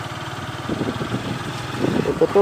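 A motorcycle rides a rough trail in the Serra dos Cocais near Coronel Fabriciano, MG. Its close, steady engine pulses throughout, and someone speaks briefly over it near the end.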